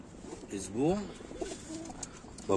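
Pigeons in a pigeon-breeding loft give a soft, rising-and-falling coo near the middle, amid a steady murmur of other birds and low room noise.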